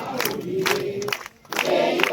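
A dense crowd gathers at a village Ganpati immersion procession, with loud overlapping voices and shouts rising in bursts around a brief lull.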